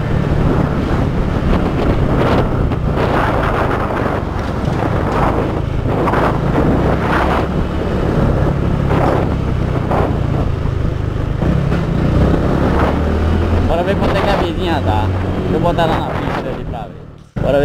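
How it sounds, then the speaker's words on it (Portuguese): Constant loud wind roar buffeting the microphone over a low engine drone from a moving Honda Biz 125 motorcycle, steady throughout with no clear talk. "Vocês devem estar escutando aí só o chiado da moto. Só o chiado e o vento"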